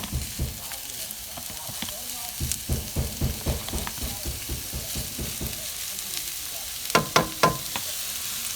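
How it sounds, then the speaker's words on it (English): Mushrooms, onion and garlic sautéing in a pan for turkey meatloaf, with a soft steady sizzle and rhythmic scraping and stirring strokes, a louder cluster of clatters near the end. "We're going to let this saute up before we put it in our meatloaf."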